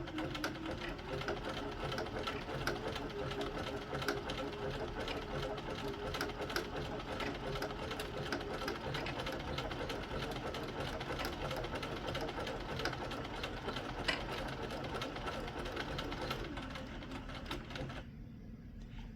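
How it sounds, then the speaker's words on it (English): A Bernina sewing machine stitching a buttonhole automatically, running as a steady rapid mechanical chatter that holds for nearly twenty seconds before winding down and stopping, close by with no talking. "My machine is going to automatically come back up the other side, and it's going to finish my buttonhole"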